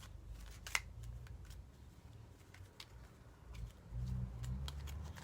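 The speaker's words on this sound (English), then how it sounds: "Shuffle those some more." Tarot cards being shuffled, soft intermittent riffling and flicking taps close by, quiet and sparse over a low room hum.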